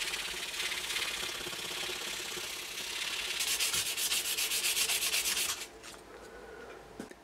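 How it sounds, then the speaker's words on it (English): Sandpaper rubs back and forth across a circuit board in quick, even strokes, close and scratchy, then slows to a few final scrapes. "You can just take the sandpaper again and give it a quick sanding"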